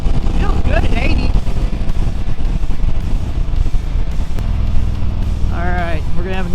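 A Harley-Davidson Street Bob 114 motorcycle engine droning low and steady while riding on a highway, with wind rush and a rider talking over it.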